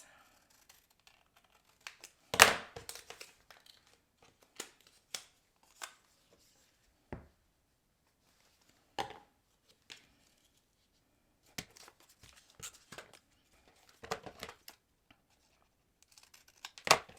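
Card stock mats for a slant card being sliced on a paper trimmer: sharp, separate cutting strokes and clicks come in short bursts with quiet gaps between them, close by and with no talking.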